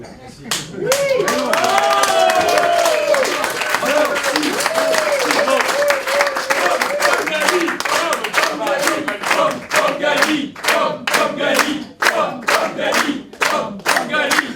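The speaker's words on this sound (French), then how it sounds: "Et je vous demande pour lui une standing ovation." A ceremony audience gives a standing ovation: loud, dense applause from a large crowd, with some shouts near the start. The clapping stays strong and close for the whole stretch and thins a little toward the end.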